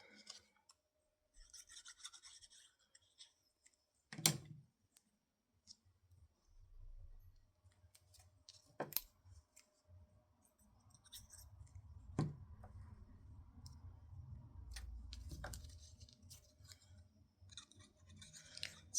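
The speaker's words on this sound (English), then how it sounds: "It's fun to fussy cut these out ahead of time" Scissors fussy-cutting small paper pieces for a pop-up card, heard as quiet close snips, clicks and scratchy paper rubs spread irregularly across a mostly hushed stretch, with a few sharper cuts standing out.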